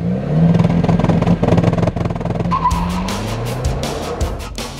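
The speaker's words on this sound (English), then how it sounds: "Renault have given me another Clio RS and a racetrack" A Renault Clio R.S. 200 EDC engine revs hard and shifts gears nearby on a racetrack, then tires squeal and skid as it speeds away, loud and continuous.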